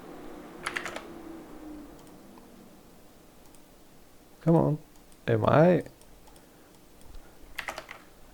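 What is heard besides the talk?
typing on computer keyboard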